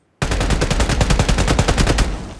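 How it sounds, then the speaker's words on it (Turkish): Rapid automatic M416 rifle fire from a mobile battle royale video game, a loud burst of about twenty evenly spaced shots in an old-school game style, alone without talk. "Eski oyunlardaki silah sesi"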